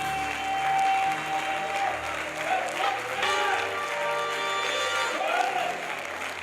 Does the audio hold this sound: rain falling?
no